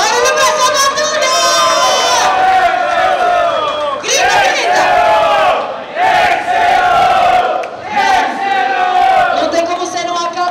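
A crowd at a rap battle roars with sustained cheering and shouting, loud and close, rising in several waves with brief dips between, voices layered throughout.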